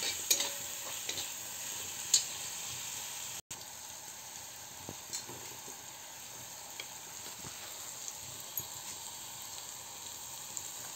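Onion and tomato frying in oil for an okra and potato curry, giving off a soft, steady sizzle with occasional light stirring scrapes and clicks, quiet and close with no voices.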